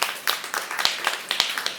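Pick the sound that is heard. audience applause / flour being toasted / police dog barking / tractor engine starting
audience applause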